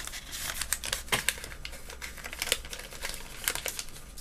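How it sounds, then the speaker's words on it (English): Paper rolled around a pot-making form for seedling pots, giving close, irregular crinkling and rustling with sharp crackles, no talk. "Rolling up the paper around it."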